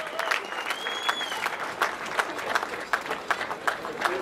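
Steady applause and cheering from a sizeable crowd at the Tour de Romandie 2017 cycling podium ceremony, with dense clapping, scattered whistles and crowd noise throughout.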